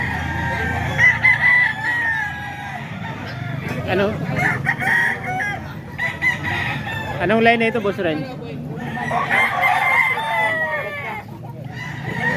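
Roosters of an Alimbuyogin gamefowl line crow repeatedly and loudly nearby, with clucking between calls while someone talks over them.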